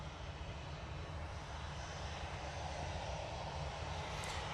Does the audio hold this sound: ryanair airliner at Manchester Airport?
yes